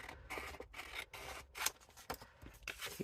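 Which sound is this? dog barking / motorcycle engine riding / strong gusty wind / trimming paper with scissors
trimming paper with scissors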